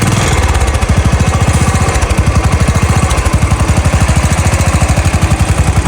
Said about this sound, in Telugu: వెల్డింగ్ కంప్లీట్ అయ్యాక మన బైక్ సౌండ్ అయితే వినండి.